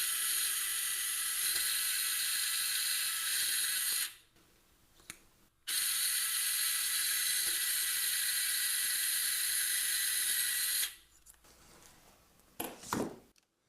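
A power driver inserts 3.5 non-locking screws into an anterior tibia ankle plate during surgery, making two long, steady high whirring runs that each stop abruptly, followed by faint clicks.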